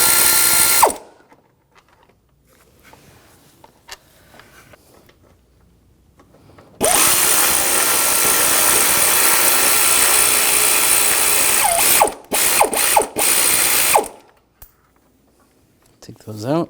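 Ratchet and 13mm socket backing out the lower bolts on the radiator cooling fan of a 2004–2009 Audi A4, a loud dense clicking burst lasting several seconds, then short separate spurts, with quiet shop noise between.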